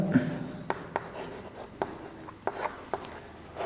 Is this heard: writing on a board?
yes